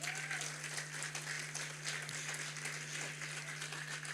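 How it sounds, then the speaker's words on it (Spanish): Distant crowd applause from a church congregation during a sermon, a soft continuous patter of many hands clapping over a low steady hum. "Le da un aplauso al Señor."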